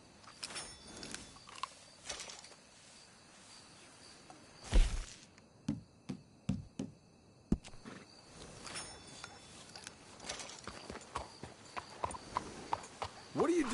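Horses' hooves clip-clop in Red Dead Redemption 2, a burst of steps followed by a string of distinct, evenly spaced hoof strikes at moderate distance, with speech in the clip and a brief whinny-like sound.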